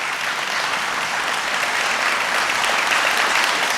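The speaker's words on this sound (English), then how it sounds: "Let's give them a big round of applause" A crowd at a city's State of the City address applauds Lou and Andy, a steady, dense wash of clapping that holds at full strength for the whole stretch with no voices breaking through.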